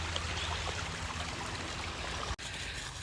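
A dog wades across a shallow stream, with steady running water and splashing filling the scene at close range and a brief dip near the end.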